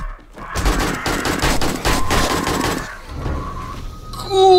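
Rapid bursts of automatic gunfire in the 7 Days to Die video game, fired at vultures, crackle loudly and densely for a couple of seconds, then thin out, ending with higher electronic game tones.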